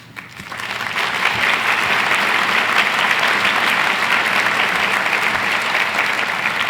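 Sustained applause from a large audience at a university's State of the University address, a dense, steady wash of many hands clapping that swells in quickly and holds at full strength.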